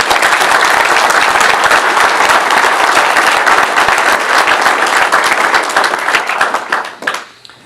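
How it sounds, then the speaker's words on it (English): An audience applauding D-Day veterans at a gathering: loud, close, continuous clapping from many hands that thins out and stops near the end. "Let's give them a round of applause"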